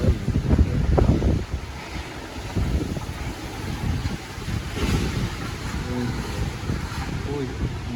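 Strong typhoon wind from Typhoon Odette (Rai) in Talibon, Bohol roars and buffets the microphone in steady gusts, loud and close, while people talk and exclaim nearby.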